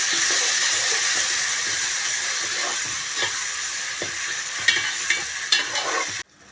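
Ground onion paste stirred and frying in a pan for a Tamil fish curry, a steady close sizzle with scraping spoon strokes throughout, no talk, ending abruptly.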